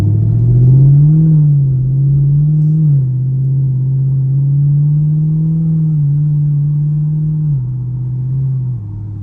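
A Chevrolet Camaro SS on a drive, its loud exhaust giving a steady deep rumble that rises and falls with throttle for several seconds and briefly dips near the end, with no clearly separate pops standing out.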